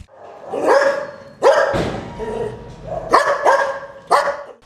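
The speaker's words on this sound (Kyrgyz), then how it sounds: "Борбордо Илбирс менен кошо дагы 5 ит машыгууда." Dogs at a canine handler training center bark in several loud, close bursts, with a growl between barks and no talk.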